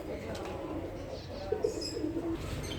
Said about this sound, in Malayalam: പല വിധത്തിലുള്ള പ്രാക്കളുണ്ട്